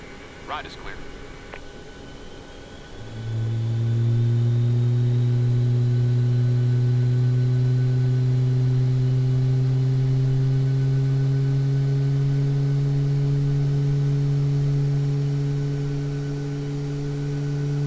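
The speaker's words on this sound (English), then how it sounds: "I did not think those engine sounds were going to be that good." Boeing 737 MAX 8 engines start up in the MSFS2020 flight simulator: a few faint clicks, then a deep whine swells and settles into a loud, steady, sustained drone with a high thin tone above.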